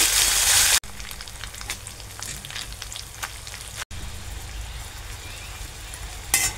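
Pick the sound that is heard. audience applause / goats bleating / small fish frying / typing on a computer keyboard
small fish frying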